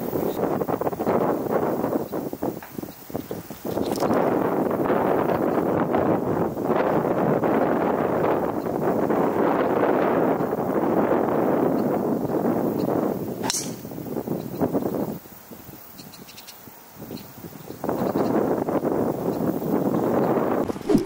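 Wind on a golf course rushing across the microphone in a loud, continuous rumbling roar with brief lulls and a gap of calmer air near the end.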